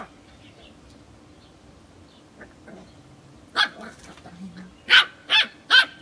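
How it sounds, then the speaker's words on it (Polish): A puppy barks in short sharp yaps, one then a rapid string of three or four loud close barks near the end, over a quiet indoor background with soft voices. "Szczeniaczek?"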